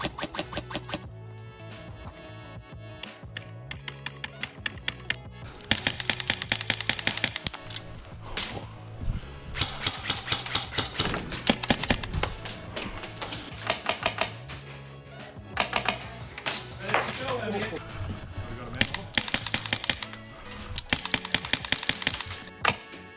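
Airsoft guns fire throughout an airsoft game, with rapid sharp snapping shots in bursts and single cracks, some close and loud and others more distant, running continuously with no talk.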